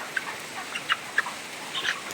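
Three chickens, about 2 kg each, cluck in a few short, faint calls scattered over a steady low background hiss.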